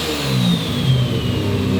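A car engine fitted with a new turbo revs steadily near the microphone, a rough mid-pitched drone with a faint whistle sliding downward, no voices over it.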